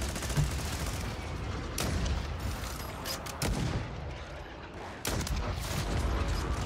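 Rapid gunfire in a Call of Duty: Modern Warfare 3 multiplayer match, bursts of automatic shots in quick clusters with brief gaps, fairly close and loud against a busy game background.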